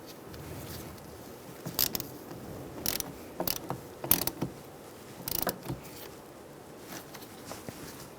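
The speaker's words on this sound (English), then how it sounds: "Use a 10mm socket, push down on it, and then this nut tightens it down." Ratchet wrench with a 10mm socket clicking in short, separate bursts as it tightens the battery terminal nut on a 2010-2013 Kia Soul, close by over faint background hiss.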